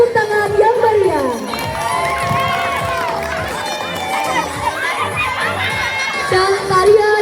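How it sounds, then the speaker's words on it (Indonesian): A school crowd cheers and shouts at a student performance event, with children's voices rising in excited whoops and chatter throughout, loud and close, with no clear clapping standing out. "Beri tepuk tangan yang meriah."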